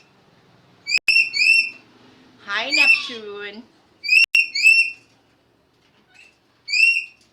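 Pet parrots at home whistling in several short, bright repeated phrases, with a raspier squawk in between and a person speaking a brief greeting nearby.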